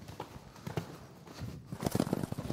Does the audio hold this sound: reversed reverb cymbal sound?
no